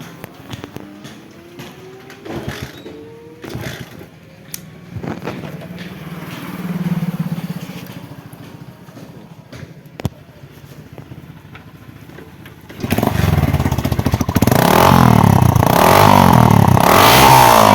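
A Kawasaki motorcycle fitted with a silencer rumbles and clatters at a low idle with scattered knocks, then bursts into loud, sustained revving for the last several seconds.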